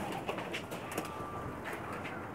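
Pigeons on a rooftop loft in Pakistan, kept as flying birds, give soft coos and rustles over a steady outdoor hiss, with faint brief sounds that may be wing flaps.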